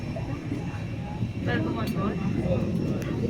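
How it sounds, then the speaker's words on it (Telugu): Cabin ambience aboard an IndiGo aircraft during boarding: a steady, rumbling hum of the plane fills the space, with people talking nearby and occasional soft clicks and shuffles. "ఇది ఇండిగో ఫ్లైట్ లోపలికి వెళ్తా ఉన్నాం"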